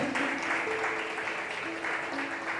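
A church congregation applauds the Lord in steady, continuous clapping with a sustained tone running underneath, filling the whole moment at an even loudness.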